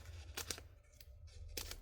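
Scissors cut side pieces of paper in a craft room, giving a few close, crisp snips in a quick cluster, then a lone snip and a final pair. No one speaks.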